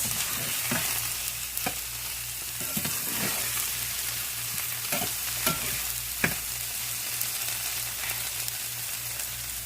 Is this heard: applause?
no